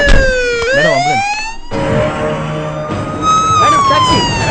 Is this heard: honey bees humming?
no